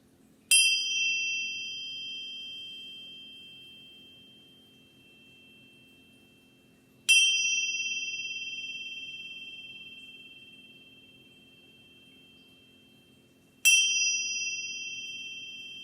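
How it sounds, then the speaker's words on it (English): A meditation chime struck three times at even intervals, each bright ring starting sharp and fading slowly into quiet before the next strike, heard alone without talking. "I'm just going to chime this 3 times"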